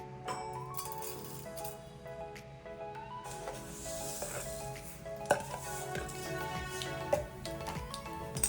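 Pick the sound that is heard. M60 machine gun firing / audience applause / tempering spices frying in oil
tempering spices frying in oil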